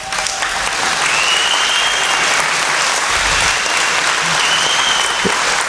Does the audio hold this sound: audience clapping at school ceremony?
yes